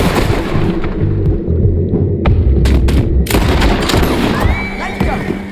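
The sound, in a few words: gunfire in the video game Red Dead Redemption 2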